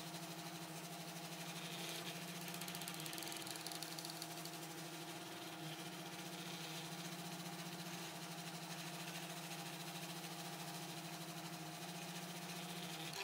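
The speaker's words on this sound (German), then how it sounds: "Erneut wird das nur 25x27x12mm kleine Kettenglied gedruckt." A direct granulate 3D printer, a homemade V4.1 build with a new extruder, prints a tiny 25x27x12 mm chain link, producing a steady mechanical whir and hum with faint rattling vibration that stays level and continuous.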